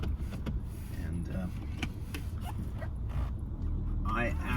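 A 1997 Mercedes-Benz E290 turbodiesel with a 5-speed gearbox out on a drive, its engine and road noise a steady close drone throughout, with a soft dog whimper and some indistinct voice sounds over it.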